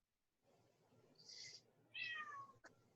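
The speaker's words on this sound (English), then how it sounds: "That was a loud meow." A cat gives two meows, a shorter one and then a louder, drawn-out falling one, over a quiet low background hum, followed by a faint click.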